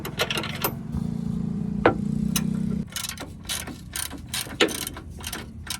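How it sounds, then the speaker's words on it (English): A ratchet works loose the suspension nuts on a 2001 Ford F150, a steady buzzing clatter for a few seconds, then sharp separate clicks and knocks, close and clear, with no talking. "I'm gonna go ahead and just break these nuts loose"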